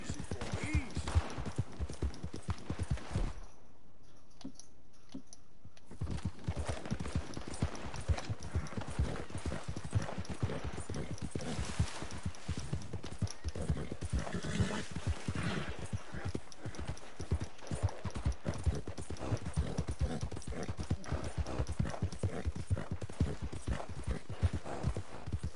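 A horse in the Western game Red Dead Redemption 2 clops along in a continuous trotting rhythm for a long stretch, close and fairly loud, with one brief pause partway through.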